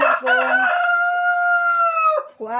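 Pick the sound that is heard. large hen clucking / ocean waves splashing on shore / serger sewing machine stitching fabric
large hen clucking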